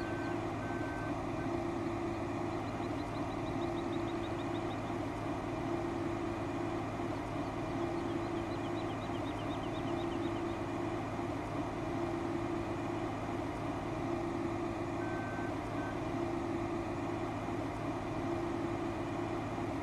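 A combine harvester works through a corn field in Farming Simulator 2015 with a steady, unbroken engine drone and faint intermittent beeps above it, with no talking.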